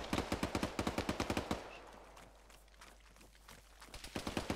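Rapid machine gun bursts in the Arma 3 military game: a fast, evenly spaced string of sharp shots, a pause with faint background noise, then another quick burst at the end, no talking.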